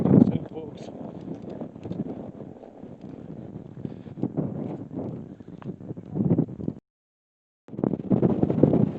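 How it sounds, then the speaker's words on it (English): Wind gusts buffet the microphone on a boat heading toward an abandoned island, a loud, rough low rumble that rises and falls for several seconds, cuts out briefly near the end, then returns. "Sorry, folks, for the wind."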